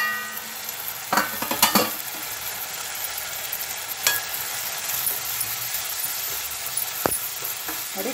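Mutton and tomato curry fries and simmers in a covered pan with a steady close sizzle, broken by a few brief clinks and scrapes of stirring.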